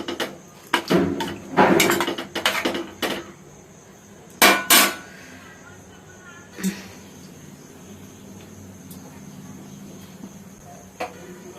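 Fish curry stirred in a cooking pot, giving bursts of scraping and metallic clatter from a utensil against the pot, then quieter pauses with faint background hum and an occasional single knock.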